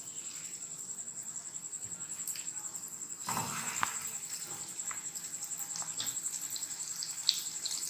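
Kebabs lowered gently into hot oil start to fry with a steady high-pitched sizzle and crackle, which turns louder and busier when they drop in, with occasional small pops.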